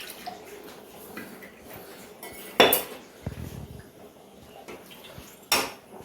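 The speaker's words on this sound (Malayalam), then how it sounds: "മിക്സി ജാറൊന്ന് കഴുകി ഒഴിക്കുമ്പോൾ കറക്റ്റ് വെള്ളം കിട്ടും." A mixer jar is rinsed and the water poured into a pot of sambar. A soft watery wash runs under two loud metallic clanks of the jar against the pot, with no voices.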